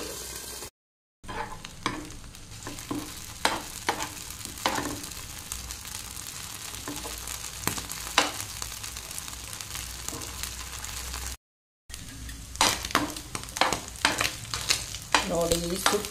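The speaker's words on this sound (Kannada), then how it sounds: "ಮೊಟ್ಟೆ ಫ್ರೈ ಆಗ್ತಾ ಇದೆ." Fish roe fries under a lid in a covered pan, giving a soft, steady sizzle broken by scattered pops and crackles that grow busier toward the end, with a couple of brief silent gaps.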